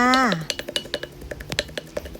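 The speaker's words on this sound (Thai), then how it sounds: "เอาปลาทูที่เฮาแกะเรียบร้อยมาตำเลยจ้า" A brief voice opens, then steady rhythmic pounding of mackerel in a mortar, sharp repeated knocks at a brisk even pace, close by.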